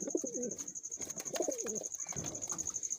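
Giribaz pigeons coo in a loft, several low, rolling coos repeating close by over a steady high-pitched hum.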